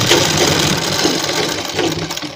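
A sewing machine runs a straight seam along the folded corner of a cotton kurti, a loud continuous rapid whirring and clatter with no pauses.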